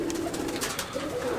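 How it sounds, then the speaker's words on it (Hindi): Pigeons coo softly in a loft, low throaty calls close by. "आप देख सकते हैं हमारे जोड़े वाले कबूतर इस लॉफ्ट"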